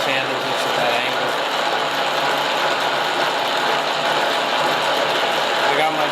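A milling machine cuts a wooden lathe tracing finger held in an angled vise, giving a steady, close whirring and grinding drone of the cutter in wood that continues without a break.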